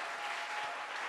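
A church congregation applauds during a sermon, a dense and steady burst of many hands clapping at close range that fills the whole brief moment.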